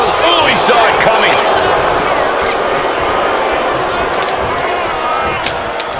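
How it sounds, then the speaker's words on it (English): A capacity arena crowd roaring during a WWE 2K25 wrestling match, heard as a dense, continuous wash of cheering that stays loud throughout, with a few sharp impacts and some talk mixed in. "you hear this capacity crowd following you on that journey"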